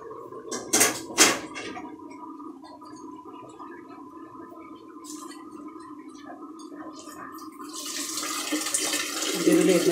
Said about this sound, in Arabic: نزيدو واحد الشوية ديال الماء